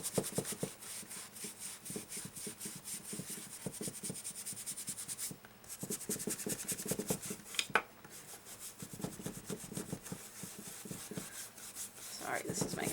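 Paintbrush scrubbing acrylic paint onto canvas on a table with a bowed center, giving steady rhythmic rubbing strokes that run close and continuous with a few brief pauses.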